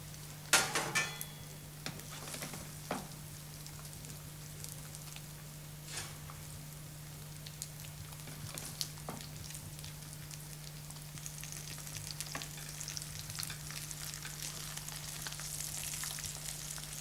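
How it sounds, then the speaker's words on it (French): Fish frying in butter in a pan makes a gentle, continuous sizzle with a low steady hum beneath, plus a few sharp clicks near the start and faint scattered taps. "Faites frire votre poisson au beurre. Il doit être doré à l'extérieur mais rester moelleux à l'intérieur."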